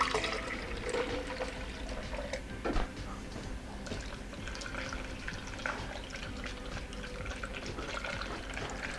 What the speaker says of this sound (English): I'm going to go ahead and pour it into the container to rinse out some more of that egg